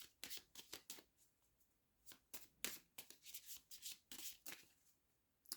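Playing cards being shuffled in repeated quick riffles, crisp bursts close up with short pauses between them, no voices.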